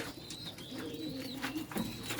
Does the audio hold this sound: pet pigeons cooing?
yes